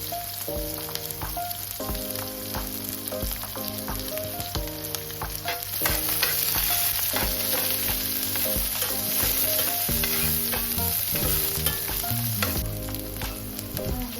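Chopped medium onion and green chilies sizzle in a cumin tempering over a slow-to-medium flame, a constant close crackling hiss that swells partway through, with tuneful background music and no talking.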